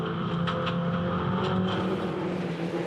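MINI Challenge race cars at Barbagallo Raceway, round 3, hold a steady, loud engine drone throughout, with brief higher bursts as the cars hold their pace on track.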